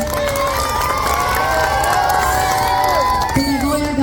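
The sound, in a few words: audience clapping and cheering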